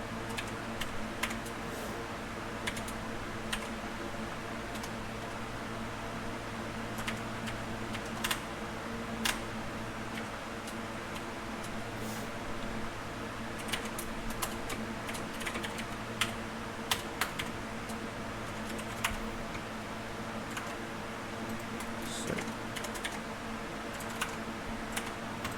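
Steady, close typing of React code on a computer keyboard, with a continuous stream of light key clicks and occasional sharper taps over a faint hum throughout, with no one speaking.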